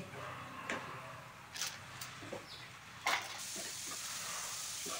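Spices for vegetable khichdi frying in a pan, a faint low sizzle with a few sharp scraping stirs and clinks, nearby and without talk.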